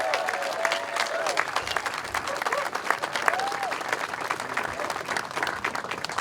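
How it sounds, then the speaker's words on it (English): An outdoor crowd at a ribbon-cutting ceremony for the Waterloo River Light Experience in Waterloo, Iowa, gives sustained applause, with many hands clapping steadily and whistles and cheers rising over the top. "could we please give him an incredible Waterloo, Iowa, Cedar Valley round of applause"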